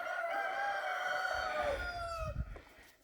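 Free-range chickens roaming on a homestead, with a rooster crowing loudly and steadily for close to two seconds, followed by softer clucks and low rustling nearby.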